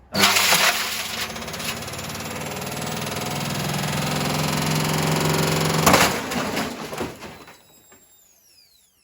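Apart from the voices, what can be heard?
Hoover H Wash 300 washing machine breaking apart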